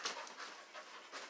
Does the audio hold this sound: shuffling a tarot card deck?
no